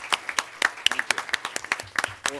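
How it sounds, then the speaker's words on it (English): A seated audience at a county commission meeting breaks into applause, a brisk scatter of individual claps popping irregularly across a couple of seconds, moderately close and with no talking over it. "everybody should give Commissioner Henning a round of applause"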